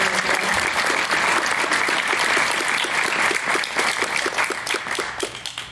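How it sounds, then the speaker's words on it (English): An audience at a community event on homelessness in Athens claps in sustained, dense applause that holds strong and then gradually thins and tapers off toward the end. "Can we give one more round of applause for everybody who's on the floor?"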